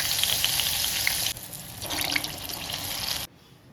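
Medu vada batter fries in hot oil with a loud, dense, steady sizzle, broken by abrupt level drops, close by and without talk.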